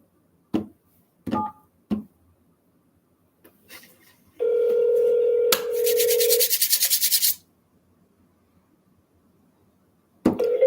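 Telephone dialing during a real estate cold call: a few short clicks, then a steady tone, then a burst of rapid buzzy pulses, followed by more clicks, close and clear with no voices.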